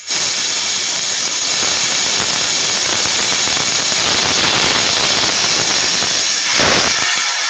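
Compressed air hisses loudly and steadily as a medical air compressor is drained, a continuous close rush that swells briefly near the end.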